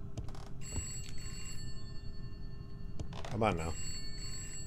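An old-style telephone rings in the horror game Contemp, giving a few trilling bell bursts with the loudest near the end, while someone talks over it.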